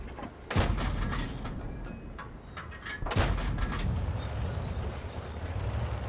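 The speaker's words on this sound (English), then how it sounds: "I was just going to try to blind fire the bush and see what I could see" Tank cannon from World of Tanks fired blindly into a bush, two sharp booming shots about two and a half seconds apart, each followed by a rumbling tail over steady engine drone.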